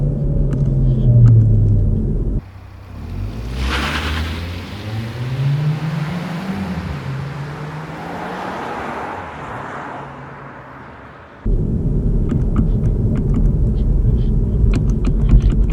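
A Kia XCeed 1.6 T-GDi engine in sport mode revs up through a rising, sustained drone with a gear change, heard as a loud in-cabin rumble that cuts off abruptly, then steady road noise.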